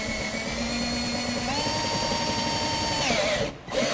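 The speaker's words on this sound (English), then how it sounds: "with our pilot hole made, we'll now enlarge it to the size indicated in the instructions." Power drill enlarging a pilot hole for an inflation valve while installing Air Lift 1000 air helper springs on coil springs; a steady, loud whining drone that rises in pitch partway through, then cuts off briefly near the end.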